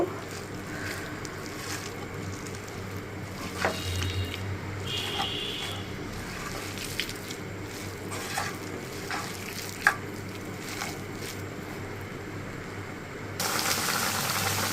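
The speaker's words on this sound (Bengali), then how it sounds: "এখন শুধু হালকা একটু তেলে ভেজে নেব।" Mashed fish mixed with onion and green chili fries gently in a little oil, a low, even sizzle broken by occasional scraping stirs and clicks, heard alone without any voices.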